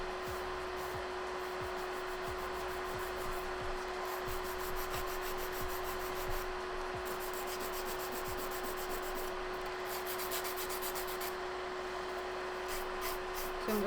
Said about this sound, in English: So we're going to file the side walls now and then the cuticle area.